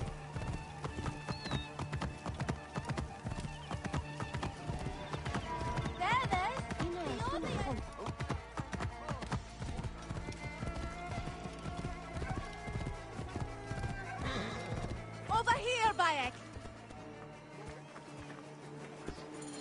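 Horse hooves clip-clopping with an occasional whinny in the Assassin's Creed Origins video game set in ancient Egypt, steady hoofbeats running throughout under game music and voices, with brief louder flurries.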